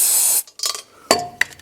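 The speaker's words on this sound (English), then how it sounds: "we get some of this lubricating and freezing spray" Lubricating freezing spray hisses onto a valve guide in a short loud burst, followed by a few quieter clicks and brief spurts of spray.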